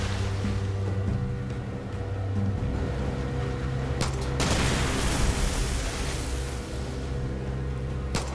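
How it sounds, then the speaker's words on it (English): A landmine detonates in Far Cry 6 with a loud, broad blast partway through, its rumble trailing off over a steady low hum of game ambience. "Blowing up landmines."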